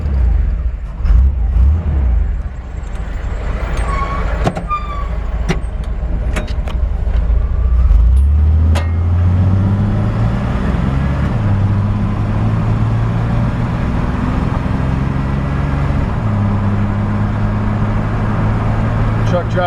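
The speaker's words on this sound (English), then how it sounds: "Truck drives really nice down the road." A 1952 Chevrolet 3100 rat rod pickup with a Vortec V6 and overdrive automatic transmission drives down the road, engine note rising through smooth gear shifts over steady road noise, with someone talking early on.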